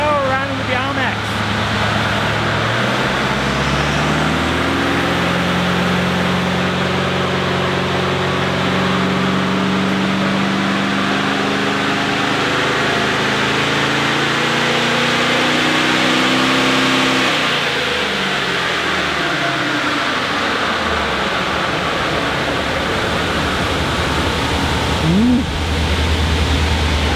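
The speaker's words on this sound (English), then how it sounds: "Back on the dyno now. Power run with the RMAX." A Nissan Safari fitted with an RMAX (Unichip) setup does a power run on a dyno, its engine droning loudly and steadily, rising in pitch through the middle of the run and then falling back near the end, with no break in the sound.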